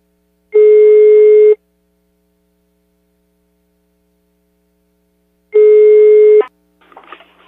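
A telephone ring-back tone sounds while a call to a restaurant is placed: two long, steady electronic tones about five seconds apart, loud against silence, followed by a faint voice answering.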